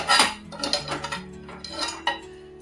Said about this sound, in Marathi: हे पातेलं मी असंच कुकरला लावून शिजवून घेते।